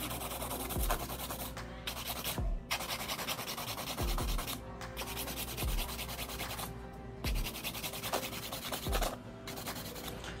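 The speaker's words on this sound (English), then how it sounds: "So just hand filing techniques here." Nail file worked by hand across an acrylic nail tip: close, continuous gritty rubbing in steady back-and-forth strokes, with periodic soft taps between passes.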